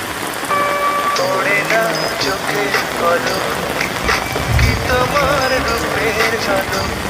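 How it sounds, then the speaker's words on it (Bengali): Heavy rain falling on a rooftop on a rainy morning, a dense continuous patter close by with bird calls and other sounds mixed in over it. "ভীষণ বৃষ্টি হচ্ছিল, চারপাশটা খুবই সুন্দর লাগছিল।"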